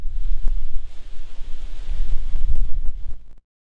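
Strong wind buffets the microphone beside a creek during a big storm in North Carolina, a loud rumbling roar that surges and dips unevenly before cutting off abruptly.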